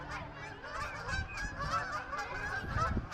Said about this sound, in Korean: 시끄럽게 오면 일단 오리.